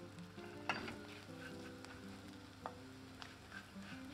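Walnuts and tomatoes sauté in butter in a pan, a faint, steady sizzle with a few soft stirring clicks, no voices.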